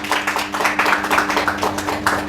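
Audience clapping at a church New Year blessing service, a steady, rhythmic patter of many hands with a constant hum running underneath.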